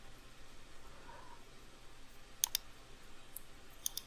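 A computer mouse gives a few faint, sharp clicks in a quiet room, a pair close together and then another pair later, while working in Photoshop 2020.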